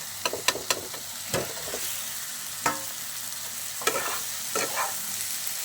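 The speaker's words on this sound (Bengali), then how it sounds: "এর মধ্যে এবার আমি পটলগুলোকে দিয়ে দেবো" Pointed gourd pieces hit a frying spice paste, giving a steady sizzle punctuated by several sharp spoon scrapes and clatters as they are stirred, close and fairly loud with no voices.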